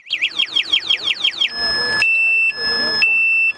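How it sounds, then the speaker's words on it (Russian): An electric bike's anti-theft alarm goes off close and loud, first with rapid warbling siren chirps, then with long, piercing steady electronic tones broken by brief gaps. "Электробайк оборудован сигнализацией и срабатывает блокировка переднего колеса."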